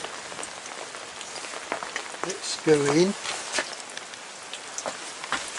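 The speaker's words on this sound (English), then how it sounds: "We're going to get rain spots on the camera as well" Rain falls outdoors around a Welsh prehistoric burial chamber, with scattered drops pattering close by and a brief voice speaking partway through.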